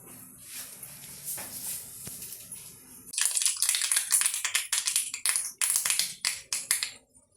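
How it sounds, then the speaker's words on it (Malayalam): Mustard seeds pop in hot oil for a dried-prawn curry, quiet at first, then a dense run of sharp crackling pops and bursts that grows loud and continuous, coming up close. "കടുക് പൊട്ടട്ടെ."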